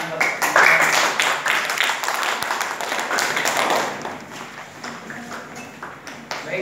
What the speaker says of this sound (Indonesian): silakan duduk dan beri tepuk tangan